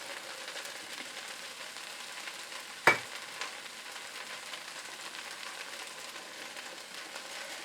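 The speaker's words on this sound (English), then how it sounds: "I'm going to go ahead and mix that all up." Brown sugar being stirred in a pan over low heat, a faint steady sizzle with one sharp utensil clack against the pan partway through.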